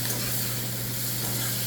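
Chopped onion sizzles in hot oil for pithla, a dense, continuous frying hiss close up with no talking.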